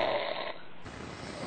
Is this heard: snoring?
yes